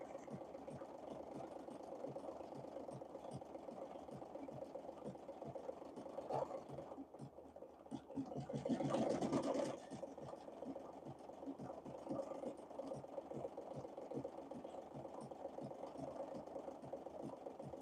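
An embroidery machine stitches a 24,000-stitch design with a steady, close mechanical whir and rapid needle rhythm. The sound continues unbroken, swelling briefly near the middle.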